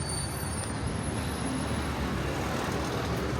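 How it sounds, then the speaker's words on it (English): Busy street traffic in the Thai town of Bang Saphan makes a continuous roadway rumble and hiss, with engines blending into a steady background roar. "There's a lot of traffic."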